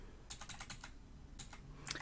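Slow bursts of typing on a computer keyboard while entering Unix commands on an old system running Blender 1.0: two short clusters of crisp key clicks, close and fairly loud, separated by a brief pause, then a few final taps.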